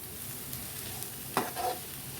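Cabbage poriyal, a South Indian stir-fry, stirred in a pan, giving a brief soft scrape and a faint sizzle over a low steady background, heard alone.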